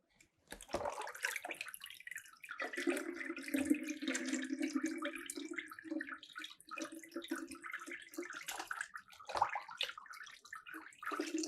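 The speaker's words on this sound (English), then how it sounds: "So I'll be filling water into this and then you will have to observe how water exits through the different holes." Water pours steadily from a tap into a plastic bottle for a classroom hydrostatic pressure demonstration, a continuous close splashing and gurgling that lasts most of the clip with no talking.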